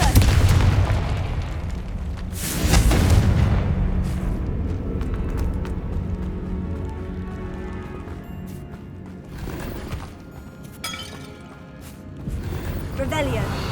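Confringo fire spell blasts in Hogwarts Legacy: a loud booming burst near the start, followed by lower rumbling impacts and scattered crashes, with a speaking voice heard in places.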